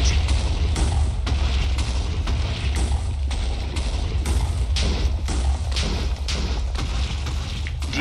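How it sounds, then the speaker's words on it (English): Loud, repeated explosions boom one after another in an action game, heavy thuds rolling over a constant low rumble. "there's a lot of explosions"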